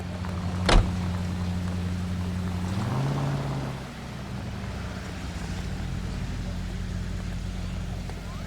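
A car driven in a video game hums at a low, steady engine drone that shifts pitch once, with a sharp knock near the start and quiet background noise throughout.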